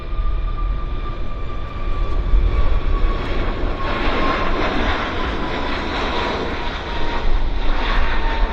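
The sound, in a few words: airplane rolling down runway for takeoff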